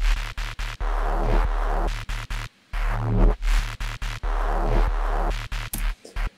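An electronic bassline from an Ableton track, shaped by subtle multiband compression around 170 hertz. Deep, loud bass notes pump in a choppy rhythm, broken by short gaps, and no voice is heard.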